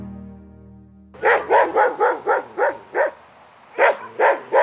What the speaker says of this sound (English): Every household has a couple or more dogs.